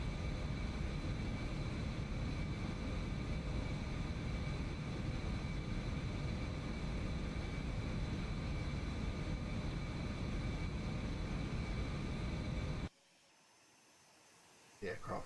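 Steady, loud broadband roar of an aircraft engine in a flight simulator over California, filling the clip before cutting off abruptly near the end to near silence with a faint rustle.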